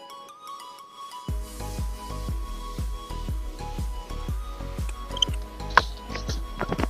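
Footsteps squelching through soft mud on a path leading to a river, about a dozen wet, sucking steps in an even walking rhythm, close and clear, with a few higher drips and splats near the end.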